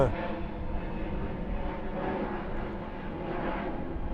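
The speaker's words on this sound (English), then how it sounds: "Now it's going to be a video of planes" A fixed-wing airplane drones overhead near an airport about four miles away, a steady broad engine rumble that holds at a constant moderate level without fading.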